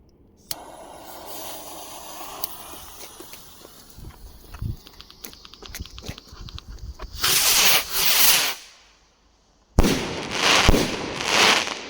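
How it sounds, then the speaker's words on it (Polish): Two Gaoo Hammer R20-03 rocket fireworks fired together at night, heard as a crackling fizz followed by two loud, close bursts of booming crackle separated by a short silence. "Dwie rakietki hukowe, Hammer od Gao."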